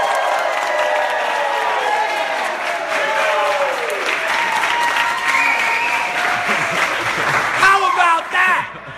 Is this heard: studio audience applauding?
yes